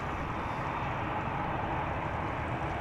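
An EasyJet Airbus A319 taxis toward the runway threshold at Amsterdam Schiphol, a steady broadband jet engine rumble with a constant hiss, moderately distant and unbroken throughout.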